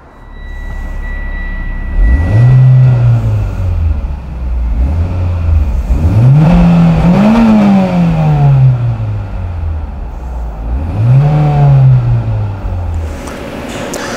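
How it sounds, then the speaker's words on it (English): A warm Mitsubishi Evo with a Cobb exhaust is free-revved in a parking lot, the engine rising and falling through three or four loud, close revs from a steady idle. "I start the car and rev it in a parking lot"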